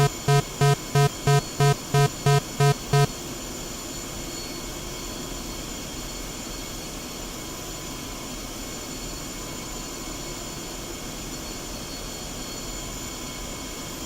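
An airplane taxiing toward the runway in a flight simulator game: a steady, even engine drone holds throughout, with a brief run of evenly spaced electronic beeps at the start.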